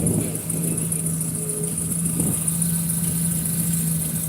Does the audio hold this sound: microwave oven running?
no